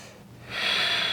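A long, airy exhale through the nose or mouth during a yoga lizard pose, starting softly and swelling into a steady breath for about half a second.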